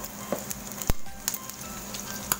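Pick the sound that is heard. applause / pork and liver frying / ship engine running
pork and liver frying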